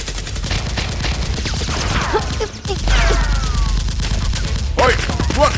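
Nerf guns fire in a staged S.W.A.T.-versus-criminals battle, heard as a sustained, loud volley of rapid shots with sweeping whoosh-like tones layered through it and a brief dip partway.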